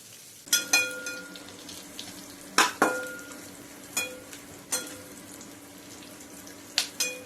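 Onions frying in a pan for a Bengali-style dal with raw papaya, stirred now and then, a soft steady sizzle broken by several sharp metallic clinks and scrapes of the spoon against the pan.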